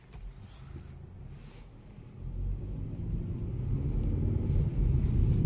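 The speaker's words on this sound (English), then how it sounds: "The engine noise is okay." Low engine rumble inside a moving 2025 Hyundai Sonata SEL with a 2.5L engine, starting quiet and growing steadily louder and deeper as the car picks up speed.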